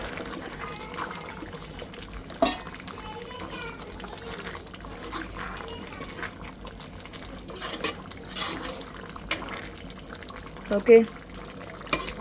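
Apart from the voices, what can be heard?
stirring spice powder into boiling meat curry in pot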